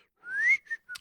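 A person whistles a short playful phrase in imitation of a body-jumping character: one long rising note followed by two brief clipped notes, close and clear against silence.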